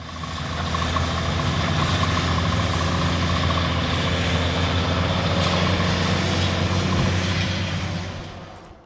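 Trucks run at a pipeline construction site beside a historic school playground, a dense, steady engine rumble droning throughout, loud and near with no voices.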